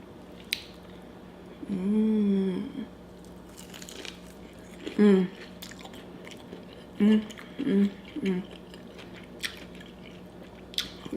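Crunchy fried colossal prawns coated in Flamin' Hot Cheetos are bitten and chewed close to the microphone, several short crisp crunches spaced apart with quiet pauses between.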